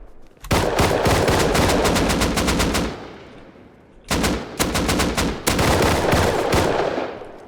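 Rapid automatic gunfire in the survival video game Rust, loud and close: a long burst of dense shots, a short pause, then further bursts with brief gaps, no talking.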